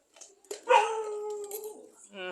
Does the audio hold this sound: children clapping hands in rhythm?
no